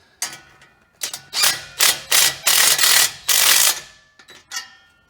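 A driver spins a muffler clamp tight on an MBRP exhaust install, several close, loud mechanical bursts of varying length, separated by brief pauses and a few lighter clicks.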